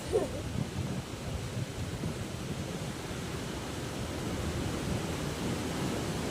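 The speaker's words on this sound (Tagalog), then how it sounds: "Sobrang lakas hangin." Steady, loud rushing wind of a super typhoon buffeting the microphone throughout, a constant broadband roar without breaks.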